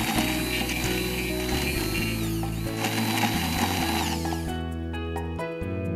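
Electric mixer beating a salted mixture for a roasted pepper timbale, a loud continuous motorized whir with shifting pitch throughout, close up and without speech.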